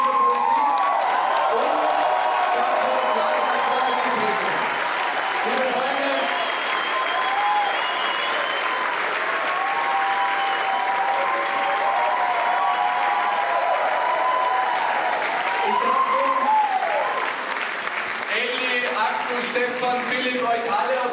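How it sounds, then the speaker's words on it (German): At an ÖVP election victory party, a large crowd keeps up loud, steady applause with cheering for about twenty seconds, while a voice talks over the noise. "holt euch euren Applaus"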